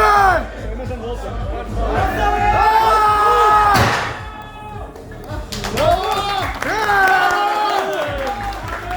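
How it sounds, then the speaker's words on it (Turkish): A crowd at a strongman train-pull contest claps and cheers in bursts, with excited shouting and babble throughout and voices loud over the noise. "Büyük alkışlar Bora Güner'e geliyor."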